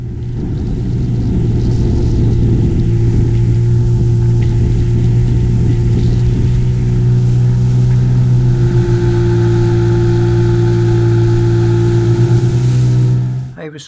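Loud, steady drone of an F-rib motorboat engine holding a constant pitch while riding short, sharp waves on a windy sea loch, with wind and water rush over the full length and no talk.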